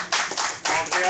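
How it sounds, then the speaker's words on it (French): A short burst of clapping from a crowd at a karaoke bar in Nice, loud and close, with a brief dip before it picks back up. "on applaudit encore très fort."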